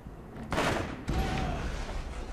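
Assault rifle fire in Borderlands GOTY Edition, two short loud bursts of shots about half a second apart over a continuous game soundscape.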